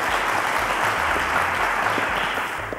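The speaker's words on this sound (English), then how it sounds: "Round of applause." A studio audience on the Nigerian quiz show Cowbellpedia claps to welcome a student contestant, a full, even burst of applause that runs steadily and eases slightly near the end, with a low musical bed underneath.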